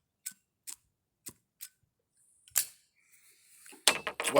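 Clicking of a lighter as a pipe is lit outdoors on a deck: four sharp, evenly spaced clicks, then a brief hiss and a louder burst of scraping clicks near the end.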